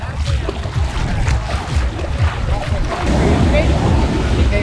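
Water taxi boat on the ocean at Cabo San Lucas, a low engine rumble mixed with heavy wind buffeting and wave wash, loud and continuous throughout.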